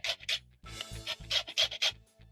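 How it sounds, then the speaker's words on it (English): A hand grater scrapes the green zest off a lime for a lime cake: quick, close rasping strokes in an irregular rhythm with brief pauses between them, and no voices. "So using a hand grater, I'm going to grate in the zest."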